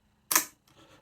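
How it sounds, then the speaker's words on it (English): Film advance knob on a Zorki 1 rangefinder camera being wound, a short dry mechanical ratcheting burst followed by a fainter clicking tail, close up and alone. "the film advance knob."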